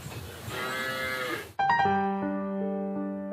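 Cattle in an alpine pasture moo nearby: one long, loud, drawn-out low call, then a second steady bellow that starts abruptly and carries on alone with no voices.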